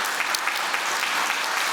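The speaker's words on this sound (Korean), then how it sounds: "우리 다시 한번 자연팀에게 함께 박수를 바라고요" Applause from a church congregation for a chime team at a Christmas celebration service, a dense, steady clapping that fills the whole short stretch without voices.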